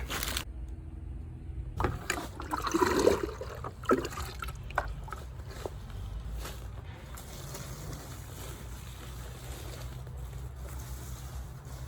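Plants in a nursery are watered with a hose, a soft steady hiss and trickle of water with splashy bursts early on, continuing alone without talk.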